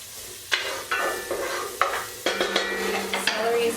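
Onions and garlic sizzle in a hot pan, a steady frying hiss broken by several sharp clatters and stirring scrapes of a utensil against the pan, fairly close.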